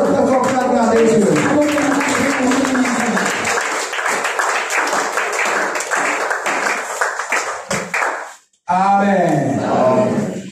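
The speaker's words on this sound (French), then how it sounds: "Applaudissons encore pour la gloire de Dieu." A church congregation at a French Sunday service applauds loudly, a dense sustained burst of clapping that fades out near the end, with a voice speaking over it before and after a short break.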